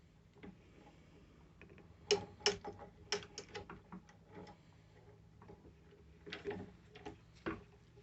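A clamp being tightened while gluing a fretboard onto a guitar neck, faint irregular ratcheting clicks and ticks close by in a quiet room.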